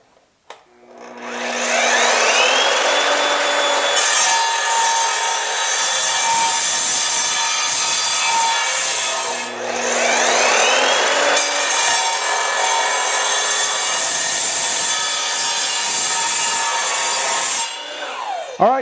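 An Evolution sliding miter saw makes two successive cuts into mild steel at a 45-degree miter. A motor spin-up and a long, loud, harsh grinding bite lead into each cut, and a brief pause separates the two.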